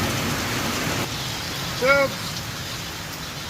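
Steady rain patters on a tin roof as a constant hiss, with a brief spoken exclamation in the middle.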